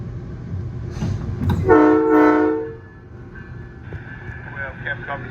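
A VRE commuter train #312 running from Spotsylvania toward Washington DC blasts a loud, sustained multi-tone horn for roughly a second, over rumbling rail noise that continues after the horn stops.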